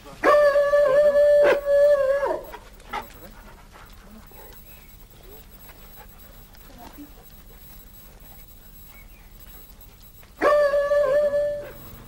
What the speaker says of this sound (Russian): Смотри, какие собачки.